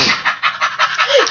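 A dog pants rapidly and close up, about seven quick rhythmic breaths in a row, ending with a faint whimper.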